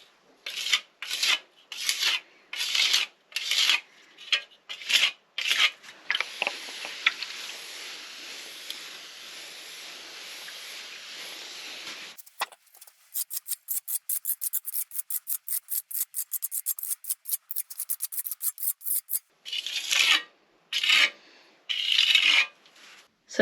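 Someone smooths cracks in a clay wall by hand, producing rhythmic scraping and rubbing strokes, then a longer continuous smear, then a quick run of light rapid rubs, close and fairly loud.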